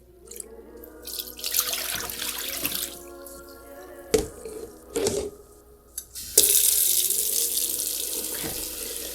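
Water from a tap pours into a wash basin being filled for washing a wig, a continuous splashing rush with a few sharper gurgles and drips, close by, growing fuller toward the end.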